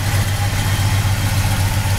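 A 1971 Oldsmobile Cutlass engine idles steadily with a low, even pulsing rumble, close and fairly loud, with no voices.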